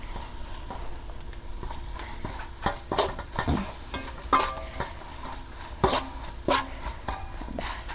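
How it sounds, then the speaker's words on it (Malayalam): Masala spices frying in oil for a crab curry while a spoon stirs the pan. A low sizzle runs underneath irregular scraping strokes and clinks against the vessel, with no talking. "അപ്പോൾ ആ എണ്ണയ്ക്കകത്ത് കിടന്ന് ഇത് മസാലകളെല്ലാം നന്നായിട്ട് മൂത്ത് വരട്ടെ കേട്ടോ."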